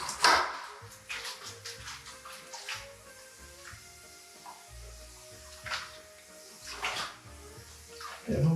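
Water is wetted onto drying plaster beside an architrave, giving soft hissing, splashy bursts that come and go over a quiet room background.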